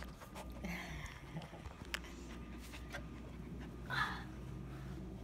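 A Husky puppy panting and scuffling during play, with quick close breaths, soft whimpers and pattering paws, plus a couple of brighter yips; quiet overall, with no clear talking.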